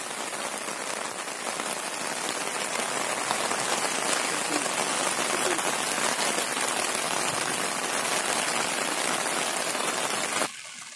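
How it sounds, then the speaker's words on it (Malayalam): Heavy rain pours steadily outdoors at Kariyathu Para near Kakkayam, a dense loud hiss of drops on surfaces that continues without a break and eases slightly right at the end. "ഇതാ മഴ പെയ്തുകൊണ്ടിരിക്കുകയാണ്."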